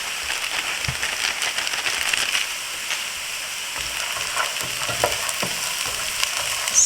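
Carrots stir-fried in a hot pan for Trini fried rice give a steady, close sizzle with crackling pops and the scrape of stirring, with no voices.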